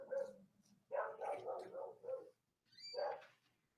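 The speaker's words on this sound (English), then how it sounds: "The dog's going off." A dog barks inside a house in three or four quick bursts, moderately near but fairly quiet overall, with short pauses between the barks.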